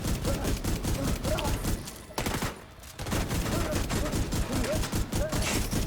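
Rapid bursts of turret gunfire in a video game rattle densely and loudly, pausing briefly in the middle before resuming.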